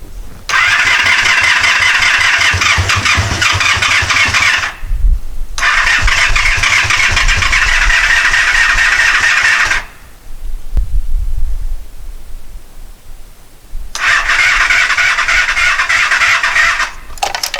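A 1984 Honda Interceptor motorcycle cranks on its starter with the choke on, struggling to fire, in three loud, close bursts of whirring cranking separated by short pauses.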